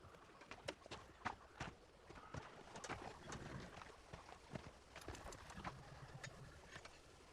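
A lady's horse being readied, hooves clip-clopping in an irregular walking rhythm over ambient outdoor noise with scattered bird calls.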